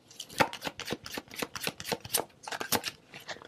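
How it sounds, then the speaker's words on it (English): Tarot cards being shuffled by hand, close crisp riffles and slaps in a quick uneven rhythm of about a dozen bursts, alone without talk. "I'm going to get one more card here."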